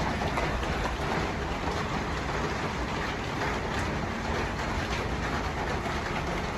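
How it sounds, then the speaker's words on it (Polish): Light rain falls as a continuous, even hiss of fine drops with no breaks and no voices. "A to jest mały deszcz."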